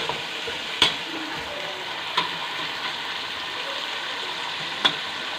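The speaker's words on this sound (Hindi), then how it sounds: "अब हम इसमें जो प्याज काट के रखे थे इसको डालेंगे।" Chopped onions frying in a pan while being stirred, a steady close sizzle broken by a few sharp clinks of the spoon against the pan, with no talking.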